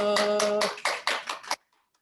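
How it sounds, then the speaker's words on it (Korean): A brief voice gives way to a few sharp, separate hand claps welcoming new students at a church middle-school youth worship service, then the room falls quiet. "우리 신입생들을 위해서 다 같이 박수로 환영합니다."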